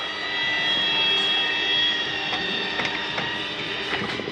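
Slide-out motor on a Montana 3121RL RV extending the room on a wet day, a steady close mechanical whine and hum with faint clicks and knocks toward the end.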